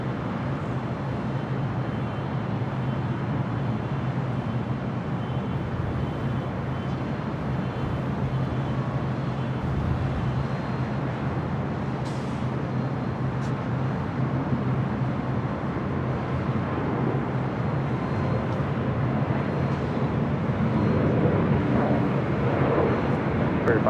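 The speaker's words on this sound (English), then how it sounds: "Spirit 507, got a departure there." Spirit Airlines flight 507 departing LAX, a broad, continuous jet engine roar at a distance, sustained and steady over the airport's background noise and swelling slightly toward the end.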